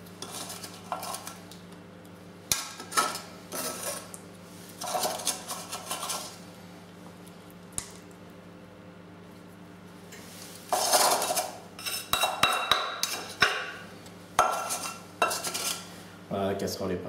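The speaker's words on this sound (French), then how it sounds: "Voilà, la casserole est presque propre." A saucepan is scraped clean with a knife and spatula after nougatine making, giving bursts of metallic scraping and clinking, close and fairly loud, separated by short pauses.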